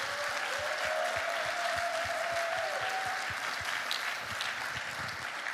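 An award ceremony audience applauds the moderator Caroline, a steady wash of many hands clapping close and loud for several seconds, with no speech over it.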